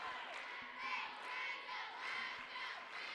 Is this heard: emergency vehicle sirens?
no